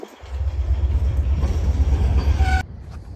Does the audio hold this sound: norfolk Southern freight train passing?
yes